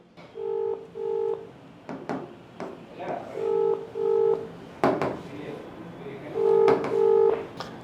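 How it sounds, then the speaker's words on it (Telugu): A telephone keypad dials out to place a call, giving a series of clear, evenly spaced beeping tones in short groups, with clicks and a voice speaking between them. "ఆమె కాల్ చేసే ప్రయత్నం అయితే చేద్దాం"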